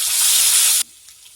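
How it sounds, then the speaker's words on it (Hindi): Ginger and garlic paste hits hot oil in a pan, a loud, bright sizzling hiss close by that cuts off abruptly, leaving near silence with a couple of faint clicks. "अब इसमें हम अदरक और लहसुन का पेस्ट डाल के इसे 1 मिनट तक फ्राई करेंगे।"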